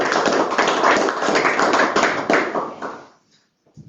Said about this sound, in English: let's give them a round of applause as they leave